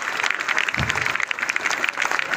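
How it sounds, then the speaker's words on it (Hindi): An audience claps for a judo demonstration at a district school in Puri, giving a fairly loud, continuous patter of applause from a crowd. "उठे ताली दि जोरदार पे"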